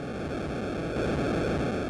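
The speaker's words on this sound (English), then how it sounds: "it's not distortion or a loose wire, it's the sounds of the ocean in the distance as the waves crash on the beach" Steady hiss of ocean waves crashing on a beach in the distance, rendered as a white-noise wash in the Atari 2600 game Realsports Volleyball, holding constant and slightly swelling partway through.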